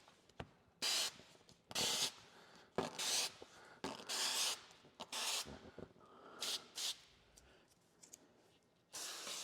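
A spray bottle spritzes slip solution onto matte paint protection film on a Tesla rear bumper, in quick repeated bursts of close hissing mist separated by brief pauses.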